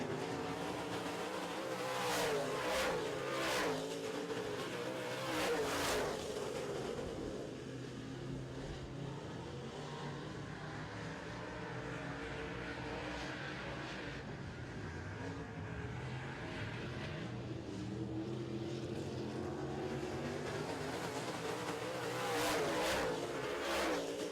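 Modified race cars in a heat race on an oval racetrack, engines roaring continuously with rising and falling revs as cars pass, loud and steady throughout.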